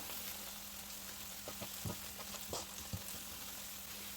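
Tomato paste sautés in a pan with a soft, continuous sizzle, broken by a few light clicks and scrapes of stirring.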